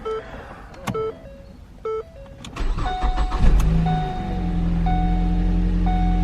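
Several electronic chimes beep, then an engine cranks and catches, revving briefly before settling into a steady idle.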